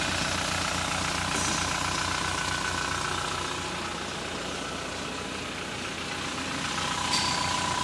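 A 2019 Toyota Hilux with a GD D-4D diesel engine idles steadily nearby after clutch lining and release bearing work, a smooth even rumble with a faint knocking texture and no speech.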